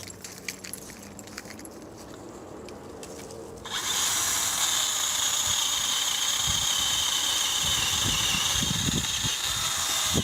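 A DeWalt DCPS620B cordless pole saw spins up a few seconds in and then runs as a steady, bright electric whine while cutting a branch, preceded by quieter outdoor handling sounds and rustling.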